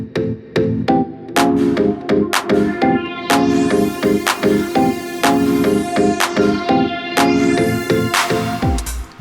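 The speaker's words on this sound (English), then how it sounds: "what you're hearing there is the filter sweep is basically opening up the frequencies as it gets towards the end of the note" A resonant synth pad from the Cubase Sonic preset in an underground house track, its filter sweep opening up toward the end of each note, mixed with steady punchy drum hits in a loud, continuous groove with no talking.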